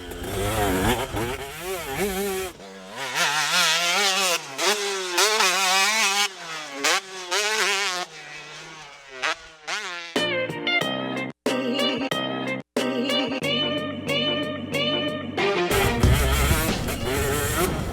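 A motocross motorcycle is ridden hard through a flat dirt corner at race pace, its engine revving and wailing up and down, with sharp gear changes and a near, loud, continuous roar.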